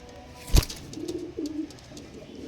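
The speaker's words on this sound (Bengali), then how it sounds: "দেখো শুধু দেখো পায়রা দেখো" A pigeon gives a low, rounded coo near the microphone, repeated softly a couple of times after a brief sharp knock, with faint chirps in the background and no talking.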